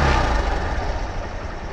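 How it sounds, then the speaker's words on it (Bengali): A Hero Hunk 150cc double-disc motorcycle engine runs close by, giving a steady, even rumble that holds at a constant level throughout with no talk over it. "এখন দেখা হচ্ছে বাইকের সাউন্ড কন্ডিশন।"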